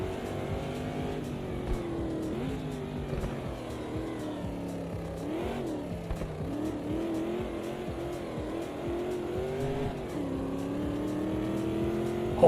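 Sim racing game with a Porsche among the cars on banked track, steady droning engine roar with rising and falling pitch as cars shift and pass, moderately loud and continuous.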